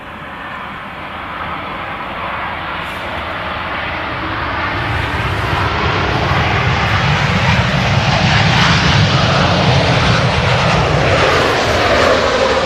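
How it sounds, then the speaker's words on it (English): A TUI Boeing 787-8 widebody jet, arriving from Barbados, roars in to land at Manchester Airport, a steady broadband engine rumble that swells louder over the last seconds with no voices. "And this arriving now is TUI 787-8 from Barbados."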